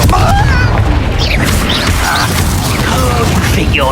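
Spell explosions and magical impacts from Confringo casting in the Hogwarts Legacy video game, loud and continuous with booms, crackles and whooshing effects layered over dense combat noise.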